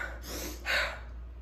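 One sharp, audible breath is drawn in quickly during deadlift breathing coaching to show the wrong way to breathe. It is close and brief, with a faint exhale tail and no speech.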